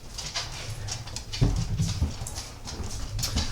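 A dog in a home kitchen makes soft whimpers and panting, with a louder close thump and scuffle midway, all near and unaccompanied by speech.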